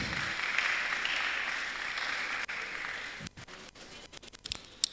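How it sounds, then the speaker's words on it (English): Clapping from the audience at a national public speaking competition semi-final, a sustained round that fades after a few seconds into scattered knocks and rustling. "A round of applause for them."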